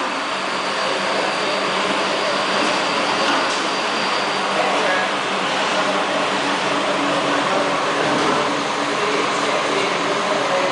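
Magnetic conveyor for cleaning metal cans running with a loud, steady industrial roar and whine that holds constant throughout, close and continuous.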